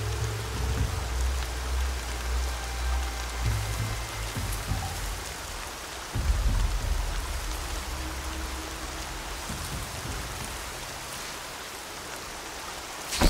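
Steady rain hisses and patters across surfaces in the video game Horizon Zero Dawn, an even, continuous wash of water noise at moderate level with faint low rumbles underneath and no voices.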